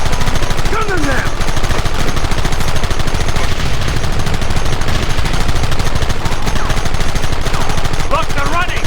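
Dense, continuous gunfire in the video game Red Dead Redemption, loud and close, with rapid machine-gun bursts and overlapping shots rattling without pause for the whole stretch.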